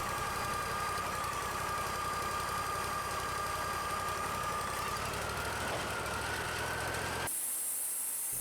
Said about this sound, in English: The hydraulic lift on the mill makes it really easy to get logs onto the log deck.